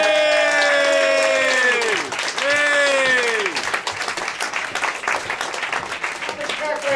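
Applause and cheering from a small comedy club audience at the close of a set, with loud whoops and shouted voices over it early on, then settling into steadier clapping.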